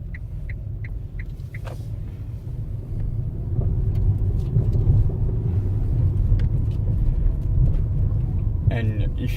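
An electric car accelerating on a test drive in Norway, a steady low motor and road rumble that swells after a few seconds and holds, with faint voices talking inside the cabin.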